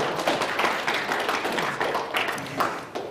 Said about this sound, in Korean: 이럴 때는 박수 한번 치시는 겁니다.